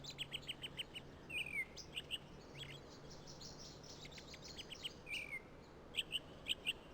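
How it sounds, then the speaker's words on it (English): Small linnet singing outside a window in a point-and-click adventure game on the streets of Gothos, bright chirps and short trills repeating at moderate distance over a faint steady hum. "That's not music though, that's birdsong."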